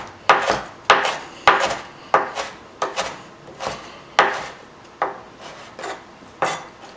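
A knife mincing chipotle chiles on a wooden cutting board for keto guacamole gives a steady series of sharp, close chops, roughly one every half second, each a crisp knock against the wood, with no voices over them.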